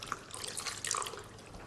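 Plain water poured into a pan of chicken jalfrezi curry makes a soft, steady splashing trickle, quiet and close, with small liquid bubbling accents.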